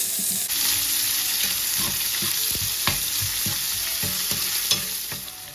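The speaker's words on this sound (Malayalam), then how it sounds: "അതുകൊണ്ട് സബോള ഇത്തിരി കൂടുതൽ അരി എന്നിട്ട് അങ്ങനെ നന്നായി വഴറ്റി അങ്ങ് എടുക്കുക." Onions sauté in a pan for a Kerala-style kangaroo curry, with a loud, continuous sizzle up close and frequent scraping stir strokes and light utensil knocks.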